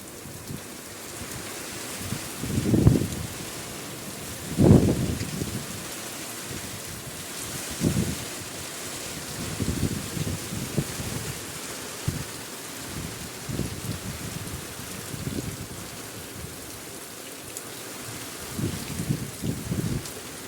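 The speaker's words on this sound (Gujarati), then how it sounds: "હવે આડે હોબડે વરસે વરસાદ" Unseasonal April rain with thunder drumming on 6-foot tin roof sheets, a steady close patter broken by several louder rumbling bursts, no voices.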